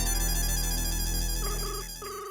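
An electronic phone ringtone plays loudly and continuously, a dense sustained tone that shifts into a repeating two-note pattern near the end, with no voices.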